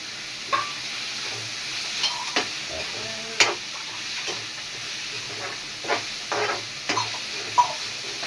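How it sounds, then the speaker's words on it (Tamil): Tomato with ginger garlic paste sautéing in a pan under a steady soft sizzle, with intermittent spatula scrapes and taps close by and no talking. "அதை வதங்கிக்கிட்டு இருக்கு"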